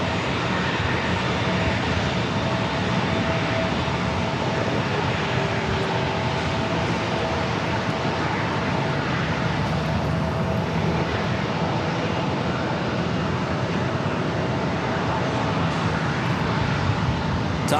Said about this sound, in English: Lufthansa A350 heading back to Munich will continue its taxi and head to 27.